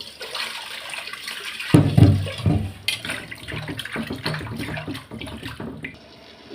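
Tap water running and splashing while half a kilo of chicken is washed in a kitchen, a close, uneven gush with louder surges and handling splashes, no talking.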